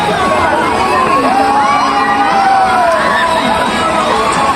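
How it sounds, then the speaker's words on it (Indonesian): Crowd screaming and shrieking on a spinning amusement park ride at a flower tourism park, a loud, steady wash of many high voices and shouts heard from nearby. "Nah ini juga salah satu permainan yang paling aku takutin ya, karena itu pada teriak-teriak guys."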